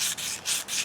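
Fine 320-grit silicon carbide sandpaper held between fingers rubs over a wooden chair finish in three quick, close back-and-forth strokes with a soft hiss.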